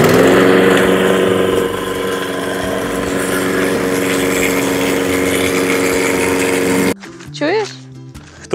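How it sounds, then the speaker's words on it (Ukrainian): A GTM lawn mower engine runs close by with a steady droning hum for several seconds, then cuts off abruptly, leaving a short stretch where a voice is heard. "підключились, відкрили кран і запустили двигун"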